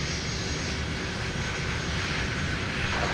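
United Airlines A320 jet at Minneapolis–Saint Paul airport, a steady distant engine roar with broad rumble and hiss, continuous and even throughout, no talking.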